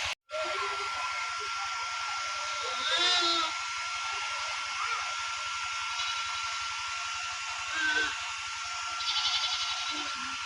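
Goats bleating in short calls at intervals as they are led out of a rural household yard, over a steady mechanical hum.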